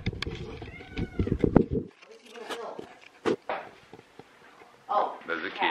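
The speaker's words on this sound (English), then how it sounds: "There's a kitty. There's a cat." A cat meows a few times in a kitchen at home, short tonal calls amid shuffling footsteps and household clatter, with louder talking at the start.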